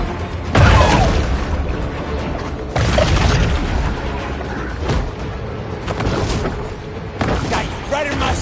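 Torpedo explosions in the shark game Maneater: several loud, deep booming blasts, each swelling and fading over a constant churning underwater rumble.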